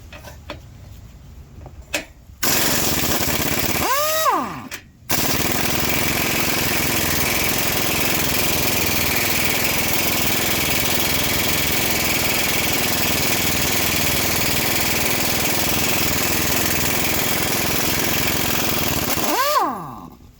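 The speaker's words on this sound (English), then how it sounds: "connect to my hammer, my impact wrench, and if all goes as planned, I'll be able to get these bolts off" An impact wrench removes bolts on a Jeep during an offroad sway bar install, running as loud, continuous hammering bursts with brief pauses and spin-up whines, close up and alone.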